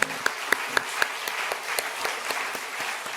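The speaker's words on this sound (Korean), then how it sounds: "다 박수 한번 격려해 주세요" A church congregation claps for its young volunteers, a burst of applause opening with several sharp, evenly spaced claps before settling into a steady, moderately loud patter.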